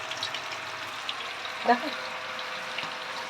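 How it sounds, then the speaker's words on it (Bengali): Fish frying in a pan gives a steady low sizzle beneath the whole stretch, with a brief louder splash of oil midway as a single spoken word cuts in. "এই যে মাছ ভাজা হচ্ছে।"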